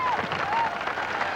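Distant rodeo crowd applause, a dense continuous patter of clapping from a large audience.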